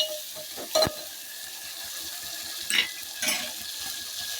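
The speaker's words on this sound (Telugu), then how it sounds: "ఆయిల్లో కొంచెం మగ్గనిద్దాం" Chopped tomatoes cook in hot oil for an aloo dosakaya curry, giving a soft steady sizzle with a few brief louder stirring clatters near the pan.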